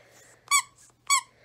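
A squeaky dog toy gives two sharp, high squeaks about half a second apart, loud and close against a quiet indoor background.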